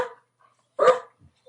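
A person imitates a dog barking with a single loud, short bark-like yelp, preceded by a brief vocal sound and followed by faint small noises.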